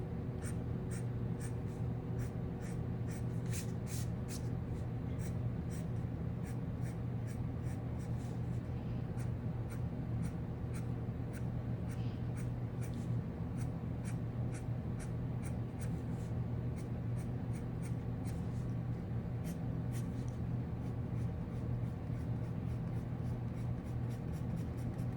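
Colored pencil shading on paper with a medium to heavy hand, a soft steady scratching made up of quick repeated strokes, close and quiet against a faint background hum.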